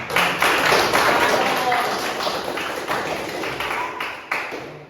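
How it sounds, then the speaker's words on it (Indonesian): Classroom applause for a student group's presentation at an Indonesian high school, a dense, steady patter of many hands clapping close by that fades slightly toward the end, with a voice faintly underneath. "Kita berikan aplaus yang berdua untuk kelompok 3."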